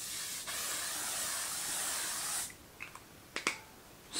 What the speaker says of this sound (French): Allez, ça, spray fixateur.